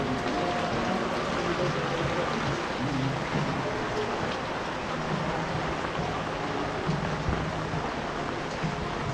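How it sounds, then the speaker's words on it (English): Dense, steady tropical storm rain pours down in a continuous hiss, loud and unbroken throughout. "because it is literally not stopped raining"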